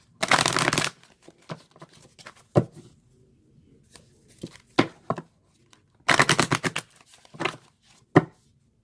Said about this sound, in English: And just shuffle a couple of times.